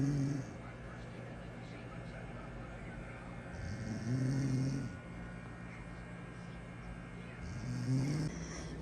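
A person asleep in glasses snores in slow, regular cycles, each low rasping inhale swelling up about every four seconds over steady background hum.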